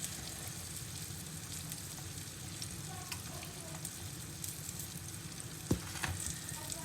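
Thick slices of green tomato, coated in flour, frying in a pan with a constant dense crackling sizzle. A faint clink or two lands near the end, and nobody speaks over the steady close frying.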